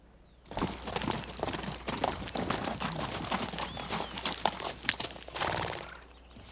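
Horse hooves clip-clop steadily in a Western setting, a continuous rhythmic run of close, fairly loud hoofbeats lasting several seconds before fading out at the end.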